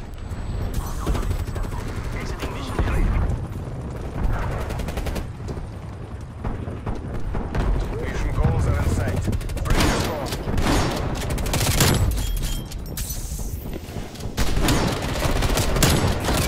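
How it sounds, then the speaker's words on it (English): Napalm strike in Black Ops Cold War gameplay, heard as bursts of rapid gunfire and crackling blasts that come in clusters over a sustained loud battle din. "I'm gonna use my napalm strike."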